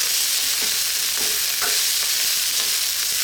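Kikiam fried rice with vegetables stirred in a hot pan, a steady loud hissing sizzle with faint scraping strokes of the spatula, close and continuous, with no talking.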